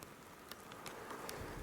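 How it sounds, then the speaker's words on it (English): Steady rain falling near a tree line, a soft, even hiss of drops on leaves and ground with a few brief louder patters, no voices. "So it's raining pretty hard right now."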